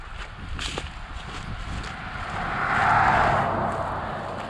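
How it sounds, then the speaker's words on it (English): A car passing along a road near a trail, its tire and engine noise swelling to a peak and fading again, moderately close, with faint rustling nearby. "The car is going by."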